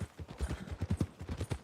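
Horse hooves clip-clopping in Red Dead Redemption 2 as the rider heads toward the stables, a steady rhythmic run of close, moderately loud low thuds with no talk over them.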